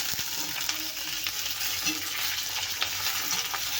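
Green chillies roasting in a pan, a steady low sizzle with occasional scraping stirs and light crackles, close and quiet, continuous throughout without talk.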